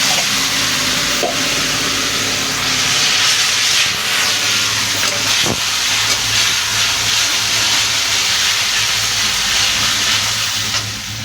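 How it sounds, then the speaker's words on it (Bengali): Water poured onto a frying spice paste in a pan for a light Bengali fish curry, setting off a loud, steady, close hiss and sizzle that lasts throughout with no talking. "দেখো এবার একটু জল দিয়ে দেবো"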